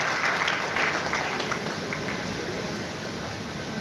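An audience of about 1,500 at Google DevFest Mumbai 2025 applauding, a dense sustained roar of clapping in a large hall that stays loud and tapers only slightly.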